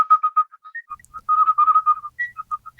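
The Post-Horn Gallop hunting tune whistled solo in quick, bouncy phrases, with short staccato notes and a few higher held tones, clear and close.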